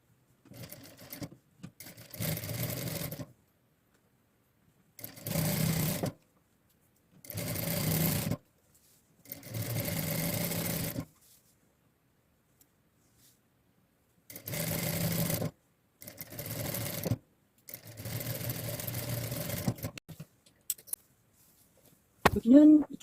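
A sewing machine set to stitch length 2.5 runs seams on reinforced rayon pajama pants, starting at the hem. It sounds as about seven loud, whirring bursts of stitching separated by short silent pauses.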